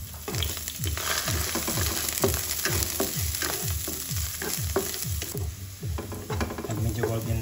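Garlic frying in hot cooking oil with chili and lemongrass, a steady loud sizzle with rhythmic scraping strokes of a utensil stirring the pan, close and continuous throughout.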